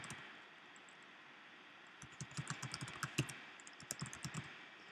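Someone typing a domain name on a computer keyboard, a short burst of soft keystroke clicks starting after a couple of seconds of quiet room hiss, close but faint.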